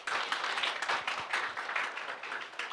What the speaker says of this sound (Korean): 수고해주신 대표님 그리고 다른 분들께도 큰 박수 부탁드립니다